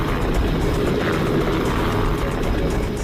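Helicopter close by, a loud, steady rotor and engine roar with a faint pulsing beat.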